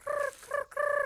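Cartoon robot goose gives three honking, gobble-like calls in quick succession, loud and close, with short gaps between them.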